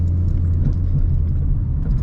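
A Ford Mustang cruising fast on a German road, past 120, with a steady, loud low rumble of engine and road noise filling the cabin throughout, no voices.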